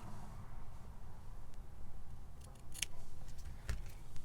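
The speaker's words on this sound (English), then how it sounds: "All right, I'm just gonna cut for the other side." Scissors snipping through fabric in a quiet room, a few faint crisp cuts clustered toward the end over low background hiss, with no talking.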